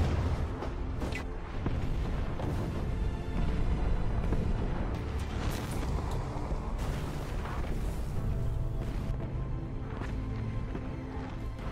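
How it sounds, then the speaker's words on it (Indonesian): Sustained heavy rumble of German artillery firing on Soviet positions in a war film, dense booming and crackling blasts layered in a continuous loud wash with no clear gaps. "Ketika koordinat sudah tepat ke arah lokasi Uni Soviet, artileri pun langsung ditembakkan."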